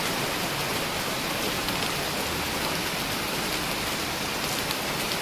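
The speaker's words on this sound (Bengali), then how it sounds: "সকাল থেকে কি বৃষ্টি নেমেছে দেখুন বন্ধুরা।" Heavy rain pours without a break, a dense, even hiss of drops close by and hammering on surfaces, with no voices over it.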